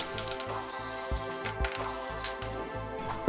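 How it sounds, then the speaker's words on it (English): Flame blue spray paint hisses from a can in short repeated bursts around stencils, close and fairly quiet, with a soft rhythmic rattling underneath. "This is me spraying a base layer with the flame blue."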